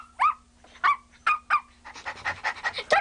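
A dog gives three short, sharp barks or yips spaced about half a second apart, then shifts into quicker, breathy panting and whimpering noises that continue close by to the end.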